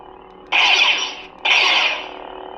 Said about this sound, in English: just tap it quickly, you get the blaster deflect sound effect